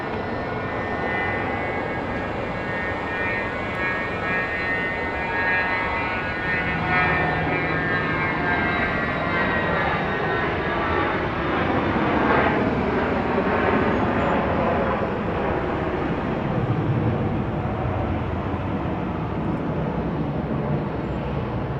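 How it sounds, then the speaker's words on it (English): Cessna Citation Latitude business jet taking off at night from an airport, a loud sustained jet roar with shifting whine as it passes and climbs, steady and unbroken with no talk. "Well, that was a Cessna Citation Latitude."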